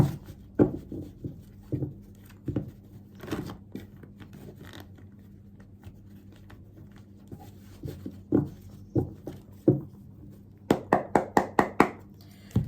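Tarot cards being shuffled by hand during a reading: soft, irregular riffles and taps, spaced out at first and then a quicker cluster of card snaps near the end, close and fairly quiet, with no talking.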